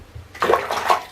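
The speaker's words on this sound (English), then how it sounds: "So he's discovered the art of splashing." Water splashing in a bathtub as a baby slaps the surface, a quiet lead-in followed by a few close, bright splashes in quick succession.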